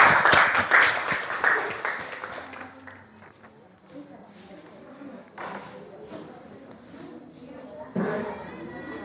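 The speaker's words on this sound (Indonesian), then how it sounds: "tepuk tangan buat kelompok 2" A school class claps for a student group after its presentation in a religious education lesson, with a brisk burst of clapping at first that thins into scattered claps and talk, then picks up again near the end.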